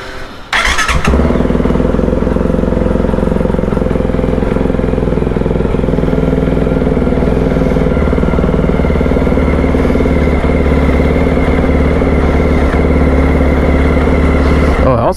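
A CSC RX4 motorcycle engine catches after a brief start-up burst and then runs steadily at a loud, close, rumbling idle for the rest of the clip.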